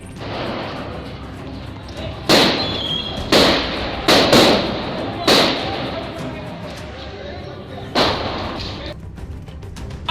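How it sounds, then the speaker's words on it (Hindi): Several sharp, loud gunshots fired from above ring out at irregular intervals in Karachi over a rough noisy background, with a murmur of voices between them. "अचानक ऊपर से गोलियां बरसने लगीं।"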